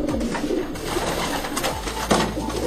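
Racing pigeons coo in a loft, soft repeated throaty coos mixed with rustling and bird calls, close and continuous over a noisy background.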